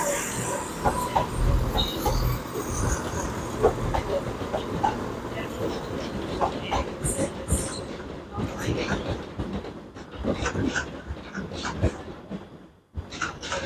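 Diesel and electric trains rumble through Edinburgh Waverley Station in a steady, continuous roar, with clattering wheels and a hiss of passing carriages.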